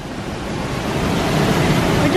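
A waterfall at Canyon Falls roars as a steady, broadband rush that swells slightly over the span, close and continuous, with no talk over it.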